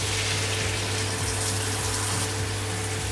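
Cold tap water runs steadily to rinse bean sprouts, a constant broadband gush with a low humming undertone and no pauses or talk.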